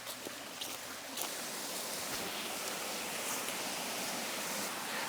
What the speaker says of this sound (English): So here we are at the top of the waterfall